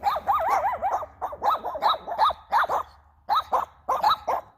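Several dogs bark and yip in quick bursts nearby, some rising, whiny barks, with short pauses between volleys.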